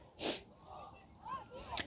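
A single short sneeze bursts out near the start, followed by faint voiced sounds.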